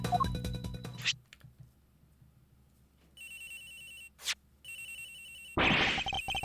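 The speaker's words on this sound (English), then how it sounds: "Agent Hicks' phone! It's ringing somewhere, sir!" Phone ringing in the game Ace Attorney Investigations: repeated electronic ring tones in short bursts, standing alone with no voices, broken by brief gaps and a loud harsh burst near the end.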